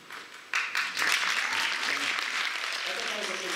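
A concert audience breaks into applause that swells sharply after a quiet start and then holds at a dense, even level, with voices mixed in underneath.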